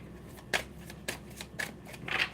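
A deck of tarot cards shuffled by hand in several quick riffling bursts, close and soft, separated by short pauses in an otherwise quiet room.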